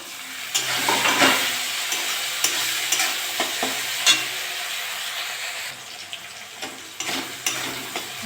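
Tomato and boiled carrot frying in a pan for chow mein sizzle steadily up close, broken by repeated sharp scrapes and taps as a spoon stirs them, with no speech.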